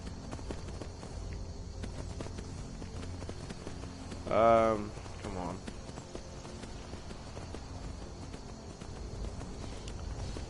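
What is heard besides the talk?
horse hooves galloping in video game Skyrim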